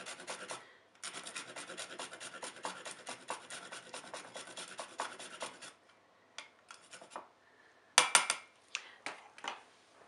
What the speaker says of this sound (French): je vais commencer par râper un petit peu de fève tonka avec un microplane sur la crème